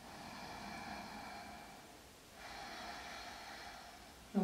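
Slow, steady breathing held through a beginner yoga pose, two long soft breaths of faint airy noise, one rising after a pause, ending in a brief sharper sniff, with no talking.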